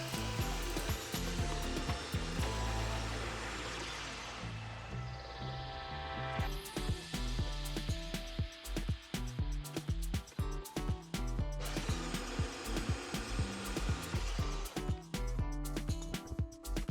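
A power tool whines as it cuts screws for the adjustment hardware of a laser engraver table, first a sustained tone, then a stretch of choppy, irregular cutting and grinding, loud and close with no speech.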